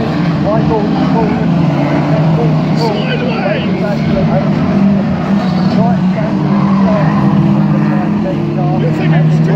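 Race cars passing at Aldershot Raceway, a dense continuous roar of engines with tyre squeal and skidding, loud and close throughout, while a commentator talks over the racket.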